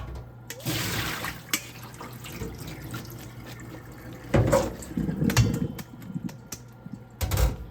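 Ginger pieces being washed in water in a kitchen, with splashing and running-water sounds that swell in bursts, loudest near the end, alongside some clattering handling noise.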